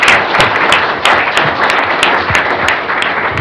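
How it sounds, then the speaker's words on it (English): A panel-discussion audience applauds steadily, dense clapping with a few sharper individual claps standing out, continuous and fairly loud throughout. "Let's give our great panelists a round of applause."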